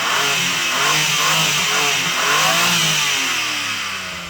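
Loud, close car exhaust roars as the engine is revved several times, each blip rising and falling with a raspy, hissy edge.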